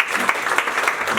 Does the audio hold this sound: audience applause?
yes